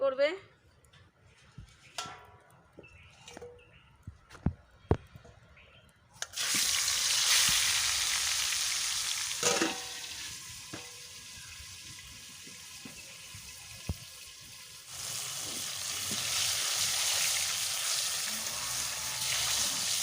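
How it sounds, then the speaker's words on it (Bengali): Koi fish fry in a mix of white oil and mustard oil in a wok. After a quiet start with a few clicks, a loud, steady, broad sizzle takes over, with someone talking over it. "আমি হালকা করে মাছটা ভেজে নিয়েছি"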